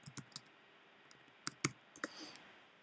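Someone typing on a computer keyboard, a few scattered light key clicks spaced unevenly over a quiet room background, faint and close.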